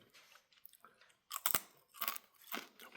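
Someone bites and chews oven-dehydrated apple chips, giving a few sharp, close crunches with quieter chewing between them. No one speaks.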